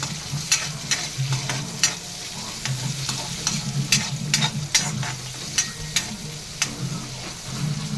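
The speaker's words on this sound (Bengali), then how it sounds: "পেঁয়াজটা ভাজা বসে দিলাম" Onions frying in a kadai for homemade biryani, a steady close sizzle under repeated sharp scrapes and clinks of a stirring spoon against the metal pan, with no talking.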